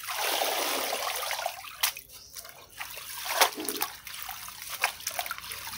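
Water splashes and trickles steadily while bùn ốc vegetable leaves are rinsed by hand, with louder sloshing bursts partway through, close and without talk.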